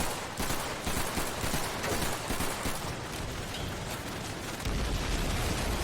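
Rapid sustained gunfire in Call of Duty 3 WWII combat, dense overlapping rifle and machine-gun bursts crackling continuously with booming low rumble, loud and unbroken throughout.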